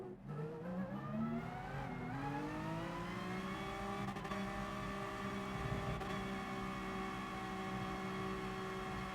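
Race cars in GT Sport roar past in a steady stream, engines droning loud and continuous with rising and shifting pitch as they accelerate by, with no talk over them.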